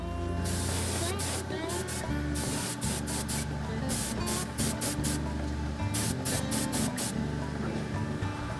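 An airbrush sprays thinned oxide red paint onto a model diesel locomotive's fuel tank, a continuous close hiss broken by short on-off bursts of spraying.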